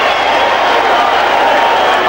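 Arena crowd roaring continuously at a boxing match between Barrera and Morales, a dense, loud wash of cheering and shouting with no distinct voice standing out.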